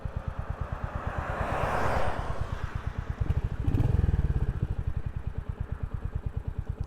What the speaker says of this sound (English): we'll wait for the serial killer van to go by